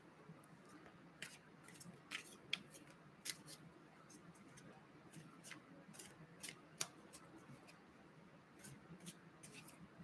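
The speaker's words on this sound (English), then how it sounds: "I will just keep shuffling away." Soft, crisp tarot card riffles and taps repeat irregularly over a quiet room hum, close and gentle, with no talking.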